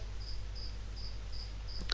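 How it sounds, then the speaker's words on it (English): Chirps from escaped pet feeder crickets under floorboards repeat in a regular rhythm of short high bursts, moderately loud over a steady low room hum. "So if you hear crickets in the background,"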